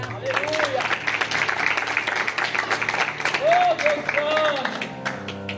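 Applause from a church congregation during a worship service, sustained clapping for several seconds mixed with crowd voices and a singing or speaking voice rising above it.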